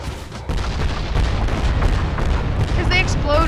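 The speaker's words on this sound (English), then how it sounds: "Because they explode on each other and then explode even more." Explosive rounds in the Tech Guns mod video game set each other off in a loud, continuous rumble of overlapping blasts and crackling pops, with faint electronic tones rising near the end.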